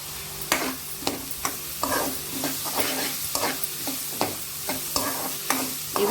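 Sliced onions with turmeric and salt fry in a pan for Mumbai-style pav bhaji, stirred with sharp, close scraping strokes at a steady pace over a continuous sizzle.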